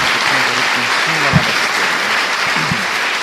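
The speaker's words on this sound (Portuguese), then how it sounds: "Dê uma salva de palmas a Jesus." A church congregation breaks into loud, continuous applause, a thick steady roar of many hands clapping close by, with faint voices briefly rising beneath it.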